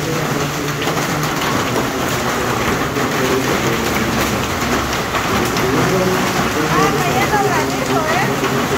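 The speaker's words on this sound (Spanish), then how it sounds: "allá afuera pues está cayendo un super aguacero." A heavy downpour in Mexico City, with hail, roars steadily throughout, dense and continuous, with a voice faintly audible beneath the rain.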